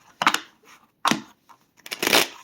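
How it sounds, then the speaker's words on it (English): Tarot cards being shuffled by hand: three short riffling bursts, close and crisp, with brief silent gaps between them. "shuffling the cards"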